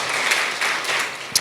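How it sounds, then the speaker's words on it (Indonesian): A short burst of scattered clapping from a church congregation, steady for about a second, ending with one sharper clap. "Berikan tepuk tangan kita untuk Tuhan kita."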